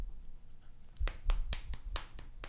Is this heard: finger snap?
yes